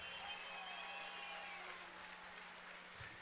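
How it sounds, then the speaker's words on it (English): A crowd applauds both boxers after a six-round professional bout at Foxwoods, a steady, sustained wash of clapping heard from a distance without a break. "let's get a nice round of applause out here for both of these fighters"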